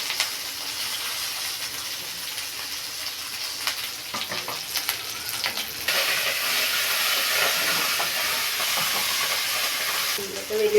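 Garlic, curry leaves, mint and coriander frying in a hot pan, with a steady close sizzle and hiss broken by scraping stirs, louder in the second half.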